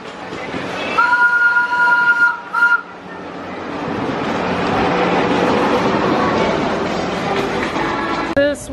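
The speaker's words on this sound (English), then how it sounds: "And I hear Rafiki's train coming." The Wildlife Express train at Disney's Animal Kingdom sounds its horn or whistle in a couple of steady tones, then a broad rumble of the passing train swells and fades, with a brief tone again near the end.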